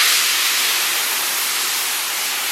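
Seasonings dropped into a wok of moderately hot oil hiss in a steady, bright, close sizzle for a home-style braised pork rib dish, with no talking.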